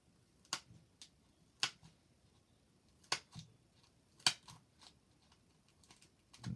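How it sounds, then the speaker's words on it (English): Scissors cutting through material for a moving creature mechanism, a series of crisp, separate snips spaced about a second apart, close and fairly quiet with brief rustling between cuts. "So now the scissor cut's gone all the way through"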